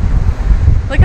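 Strong wind roars across the microphone aboard a small sailboat in choppy water, a steady loud buffeting rumble with a brief voice at the end.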